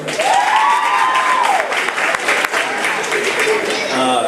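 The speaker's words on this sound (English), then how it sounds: "Could you please hold your applause" Audience applause fills a hall at a high school athletic banquet, steady and loud for about four seconds, with voices mixed into the clapping crowd.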